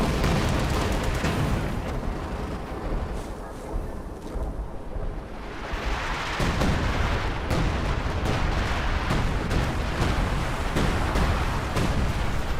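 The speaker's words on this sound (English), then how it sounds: "Yeah, howitzer bombardment." Howitzer artillery bombardment in Company of Heroes 2 rumbles with repeated deep booming blasts and rolling explosions that continue throughout, loud and layered with no talking over it.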